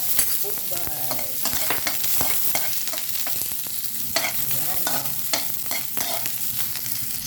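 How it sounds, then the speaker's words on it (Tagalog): Garlic and onion sauté in a hot pan for pancit guisado, a dense, continuous sizzle broken by frequent scraping stir strokes, close and fairly loud. "magisa na tayo ng lamas, ahos at bombay"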